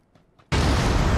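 A few faint soft sounds give way to a sudden loud PUBG grenade blast that roars on with heavy, broadband rumble.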